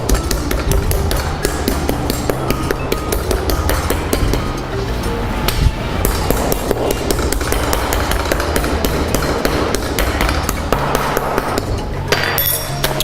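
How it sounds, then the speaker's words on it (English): Mallet repeatedly pounding a chicken fillet flat in a kitchen, a steady rapid series of sharp thuds and slaps continuing throughout, loud and close with no talk. "I'm just going to hammer it down because I want to get an even level basically on the entire chicken fillet."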